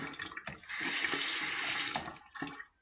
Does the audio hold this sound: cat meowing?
no